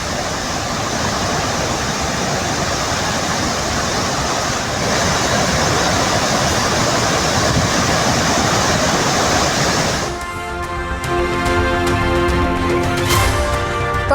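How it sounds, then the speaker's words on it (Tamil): Floodwater pours over the Meenvettiparai waterfall near Srivilliputhur, a loud, steady broadband roar filling the first ten seconds before tonal music takes over. "விருதுநகர் மாவட்டம் ஸ்ரீவில்லிபுத்தூர் அருகே உள்ள மீன்வெட்டிப்பாறை அருவியில் கொட்டும் வெள்ளம்"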